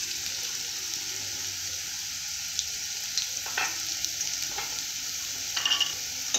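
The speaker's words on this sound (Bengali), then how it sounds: "এইভাবে আমি ভেজে নেব।" Potatoes frying in oil in a pan, a soft continuous sizzle with occasional stirring scrapes and clinks, close and quiet, no talking.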